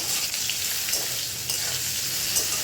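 A vegetarian dish with mola greens cooking in a pan, giving a loud, continuous close-up sizzle with faint scraping stirs and no talk.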